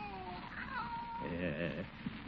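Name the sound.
cat meowing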